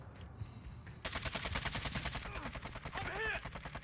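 Video game gunfire: rapid bursts of shots crack in quick succession, fairly close, with faint voices in the background.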